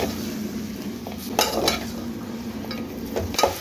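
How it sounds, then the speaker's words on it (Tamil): Mutton and onions are stirred together in a pan, with a steady low sizzle beneath a few sharp scrapes and clinks of the spoon against the metal. "மட்டன் சேர்த்து இந்த வெங்காயத்தை கூட நல்லா மிக்ஸ் பண்ணணும்."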